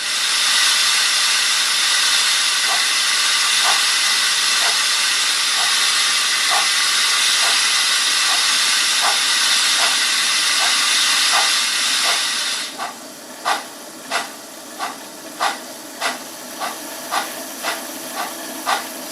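A Trix Märklin BR44 model steam locomotive sound decoder gives a continuous loud steam hiss with soft regular chuffs, then the hiss drops away and crisp, evenly spaced chuffs carry on alone at a quicker, steady beat.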